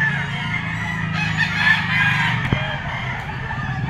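A Kelso bull stag, a young gamecock, crows loudly and close by in one long drawn-out call, with clucks and low fowl noises before and after it.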